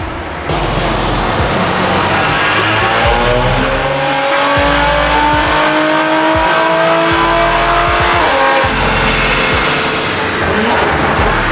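Audi RS car at full throttle, engine roaring loud and close as it accelerates through gears with brief shift dips, sustained and unbroken, no voices.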